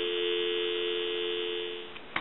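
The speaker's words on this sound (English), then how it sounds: "I want to give you some dial tone" Dial tone comes down the line of a three-slot 233G payphone as a steady, clean, continuous hum, loud and alone, ending in a small click.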